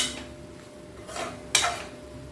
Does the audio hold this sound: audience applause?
no